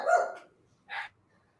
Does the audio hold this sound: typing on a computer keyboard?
no